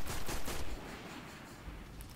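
Rapid sniper rifle fire in the video game Destiny, a few loud cracking shots packed into the opening moment, then a steady lower wash of battle noise without voices.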